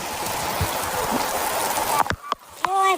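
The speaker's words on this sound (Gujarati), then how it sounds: "ફૂલ વરસાદ ચાલુ છે મિત્રો, તમે જોઈ શકો છો." Steady heavy rain hisses across the whole clip, then gives way to a few sharp clicks and brief tonal sounds near the end.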